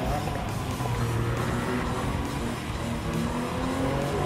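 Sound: Lamborghini race car engine in Gran Turismo 7 video game

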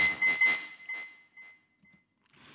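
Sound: beep through filter delay effect

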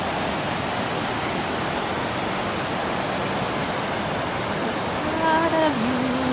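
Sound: waterfall

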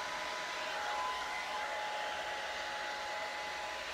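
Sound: hair dryer with diffuser

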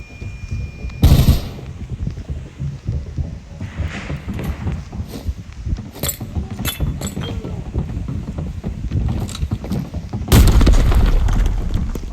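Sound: explosion in Arena Breakout video game

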